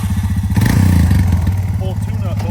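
Honda Recon ATV engine running steadily with a low, throbbing idle and a rise in revs, close up, with someone talking over it.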